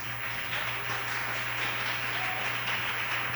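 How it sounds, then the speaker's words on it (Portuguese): A church congregation claps steadily together, a dense, even wash of applause filling the room over a faint low hum for the whole stretch. "Aplaude a Jesus."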